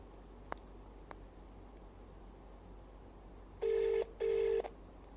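A faint quiet room carries a couple of soft clicks, then two loud electronic ringback tones sound one after another from a telephone call being placed.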